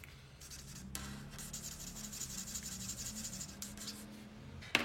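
A WG5 warm grey marker rubbing and scratching across paper while coloring in small areas, a soft steady close-up scribbling with brief pauses, quiet and alone.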